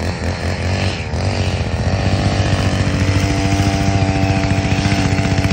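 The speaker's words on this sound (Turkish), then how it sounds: "Bahçede ot biçiyoruz şu anda." A lawn mowing machine runs steadily in a garden, a loud continuous engine drone with a buzzing, motor-like tone that holds even throughout, with no voices.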